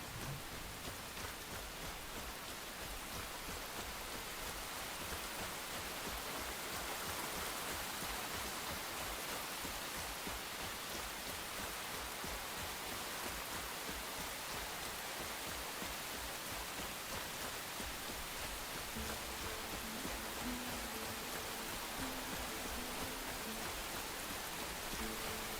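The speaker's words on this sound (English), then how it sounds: "Because, of course, it's gonna rain now." Steady rain falls in the video game Enshrouded, a dense, even hiss of drops on surfaces that runs unbroken at moderate volume for the whole stretch, with no voices.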